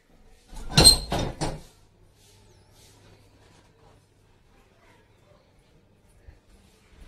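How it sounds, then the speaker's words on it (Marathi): A household door is opened on the way upstairs to a sunny rooftop, giving a close cluster of clattering, rattling knocks lasting about a second, then near silence with a faint soft bump near the end. "दरवाजा खोलते."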